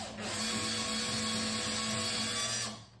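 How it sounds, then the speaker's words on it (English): A power drill whines steadily at close range for nearly three seconds, boring into a door lock with a mortice drill template, a continuous motorized grind with no voices. "Now I'm just going to try and keep the drill as steady as I can do and start going into the lock."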